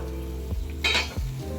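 Wet soaked horse gram flour batter drops into a pan of boiling onion water, setting off a brief burst of sizzling and bubbling that rises over a steady low simmer.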